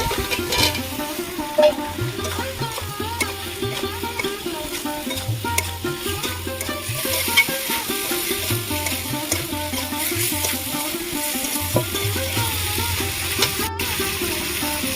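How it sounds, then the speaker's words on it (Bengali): Potatoes frying with spices in a pan for a Bengali aloo kosha, with continuous close sizzling and stirring that runs steadily throughout at a moderate level under a faint repeating tonal background. "আমি মশলা দিয়ে ভালো করে কষিয়ে নিয়েছি কিছু আলু দিয়ে দেবো"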